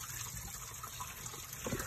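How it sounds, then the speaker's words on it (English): Water splashes and trickles steadily out of a drain opening on a MerCruiser 5.0 inboard boat engine being winterized, a continuous close pouring sound with no voices. "gallons of water coming out"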